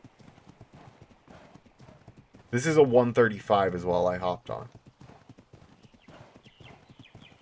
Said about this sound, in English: That other horse is getting attacked by the alpha raptor right now as well.